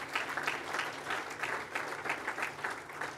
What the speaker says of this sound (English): So another big round of applause for Dr.